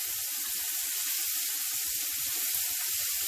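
Meatballs for meatball subs sear in a hot frying pan, giving a steady close sizzle with scattered low pops and crackles throughout, no voices.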